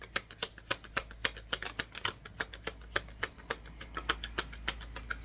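Metal keys jingle and clink in a quick, uneven run of sharp, close taps that keep going for several seconds, with no voices over them.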